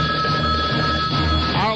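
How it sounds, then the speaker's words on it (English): A radio show's telephone delivery line rings in a steady, continuous electronic trill that fills the whole moment, close and fairly loud, with a faint tonal sweep near the end. "Delivery line ringing."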